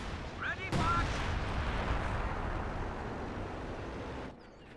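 Artillery barrage in Company of Heroes 2, a loud sustained rumble of blasts and explosions rolling on for about four seconds, then cutting off abruptly. Voices sit faintly under the din.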